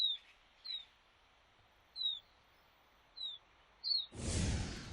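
A single bird gives short, high chirps spaced about a second apart, clear against a quiet background, before a burst of broadband rustle or wind noise at the end.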